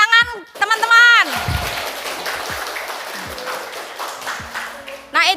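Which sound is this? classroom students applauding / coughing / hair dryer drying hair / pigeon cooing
classroom students applauding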